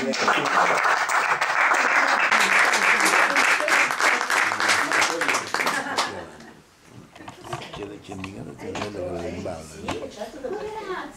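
An audience at an Italian award ceremony gives another round of applause, dense group clapping for about six seconds that then fades away as a voice begins speaking.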